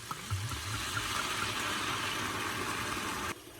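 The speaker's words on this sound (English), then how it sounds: "So that just means pour a liquid to get all of the fried bits to unstick from the pan" Red wine splashes into a hot pan to deglaze it, giving a steady close sizzle and hiss of liquid on hot metal that holds for about three seconds and then cuts off sharply.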